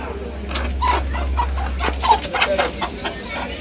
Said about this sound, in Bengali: আর ওইটা মুরগি কালো মুরগি, ব্ল্যাক